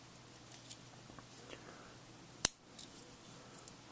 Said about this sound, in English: Then you have my favorite, the scissors.